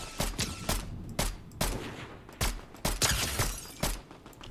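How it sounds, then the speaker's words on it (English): Rapid bursts of gunfire in the video game Fortnite, a string of sharp shots in irregular clusters, some near and loud, others slightly farther off, with no talking. "Who's shooting at them?"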